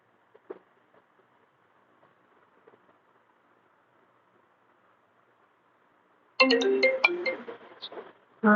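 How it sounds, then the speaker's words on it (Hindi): A phone ringtone bursts in loud and close with a bright repeating melody, breaking off briefly and then starting again after a near-silent classroom stretch with faint scattered background sounds. "छोटी एक फोन उठा रहा हूँ"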